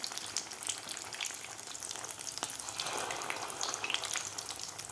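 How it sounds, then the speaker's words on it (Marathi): Fasting-style potato vadas deep-fry in oil over a medium flame, giving a faint, even bubbling sizzle flecked with light crackles and pops throughout, with no speech. "आता व्यवस्थित आपल्याला हे थोडंसं गोल्डन कलर होईपर्यंत आपल्याला मिडियम गॅसवर तळून घ्यायचे आहेत"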